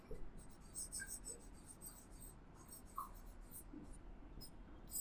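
Chalk or marker writes a word on a classroom board during a biology lesson, a run of short, close scratching strokes with brief pauses between letters, and no talking.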